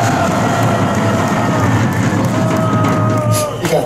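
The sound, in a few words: audience applause at a rally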